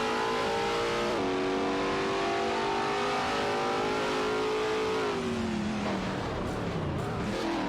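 A Chevrolet Corvette C6.R and a Lamborghini Murcielago RGT race in an AI-driven video game, their engines droning loud and steady with pitch shifts as they go through the gears, followed by a falling whine as they pass.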